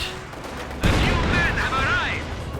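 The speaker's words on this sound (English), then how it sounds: "another excellent hit there from the mortars" Mortar and gun fire in a Company of Heroes 2 battle: a sudden heavy boom lands and rumbles on under a continuous layer of game noise, loud and close, while a commentator talks.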